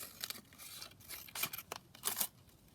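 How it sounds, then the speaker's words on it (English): A paper sheet, such as an encyclopedia page, being torn off during bulk booklet making, heard as several short, close ripping bursts alone with no talk. "I'm just going to tear that front piece off of there"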